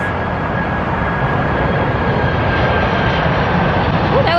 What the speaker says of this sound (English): Here comes the airplane. There it is.